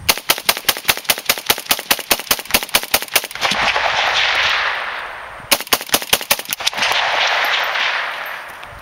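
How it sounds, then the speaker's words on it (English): An AK-47 rifle fires two long strings of rapid, sharp, evenly spaced shots outdoors. Each string ends in a loud rushing echo that slowly fades. "Do some rapid shooting."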